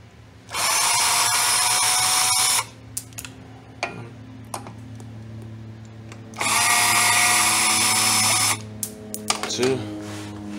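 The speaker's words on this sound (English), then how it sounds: "just get a Phillips head screwdriver or whatever power tool you may have available to you, and just go ahead and remove those two" Power drill removing the screws that hold down a rear disc brake rotor, two loud sustained whirring bursts with clicks and handling noises between them, a steady low hum underneath throughout.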